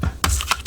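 A 2.5 inch circle punch cutting thumb notches from paper, two or three quick, close, crisp clacks in rapid succession.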